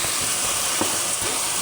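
Tomato paste and soy sauce sizzle loudly in a hot pan and are stirred, a dense, continuous frying hiss, close up, with soft scraping strokes of the spoon repeating underneath.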